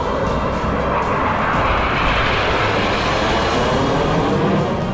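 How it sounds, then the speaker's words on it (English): Six Jaguar jet aircraft fly past in formation at an Indian Air Force Republic Day flypast rehearsal, a loud continuous roar of jet engines holding steady throughout without talk. "The next formation is Jaguar aircraft formation,"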